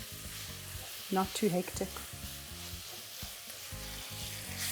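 Onions frying and softening in a pan while cooking African cuisine, a steady sizzle running throughout with a brief stretch of talk partway through.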